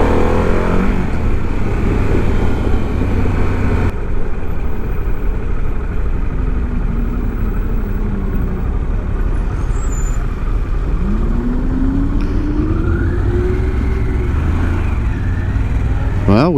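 A 2024 Harley-Davidson CVO motorcycle cruises along a scenic road, its engine a steady, loud rumble blended with heavy wind roar throughout, with faint pitch shifts as the rider leans through bends.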